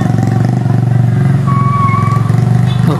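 A motorcycle engine struggling up a steep hill chugs steadily and loudly nearby, its throbbing rhythm labored, with a faint whine rising partway through.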